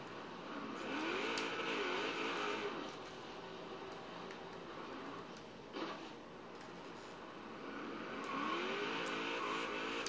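A Chevrolet Nova drag racing car accelerates hard at a drag strip, its engine rising in two loud, sustained pulls that climb in pitch, with a brief dip between them and faint crowd noise underneath.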